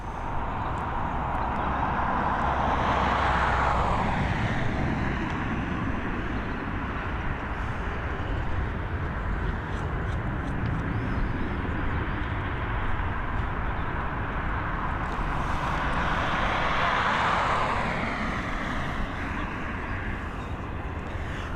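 A KLM-operated Embraer jet on flight KL 941 from Amsterdam arrives at Dublin Airport, its broad engine roar rising and falling in two long swells over continuous wind-like rumble.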